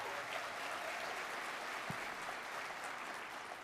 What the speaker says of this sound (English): Let's give Dr. Chris Scribe a round of applause right now.